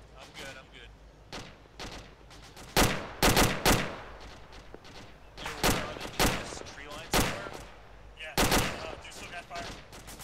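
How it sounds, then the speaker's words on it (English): Incoming gunfire in the military shooter Arma 2, with sharp cracks and short bursts arriving irregularly, some loud and close, others fainter, while voices talk over the shooting. "I'm seeing tracers coming in."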